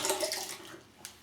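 A brief gush of running water as something is rinsed off under a tap, close and hissing, fading quickly with a small splash at the end.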